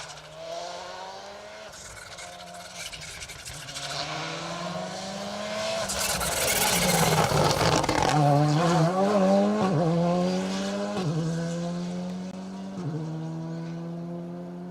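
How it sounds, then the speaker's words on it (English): A rally car approaches at speed on an asphalt rally stage, engine note climbing through gear changes, roaring loudest as it passes close, then shifting and pulling away. "I can hear Oshan Price heading towards us. Fingers on stopwatches, guys, and here he comes."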